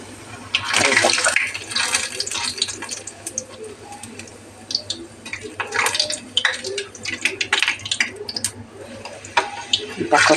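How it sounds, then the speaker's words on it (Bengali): Pieces of dough frying one at a time in hot oil, a continuous sizzle with crackling pops and spits, close and moderately loud. "এবারে আমি ভাজবো এক একটা করে"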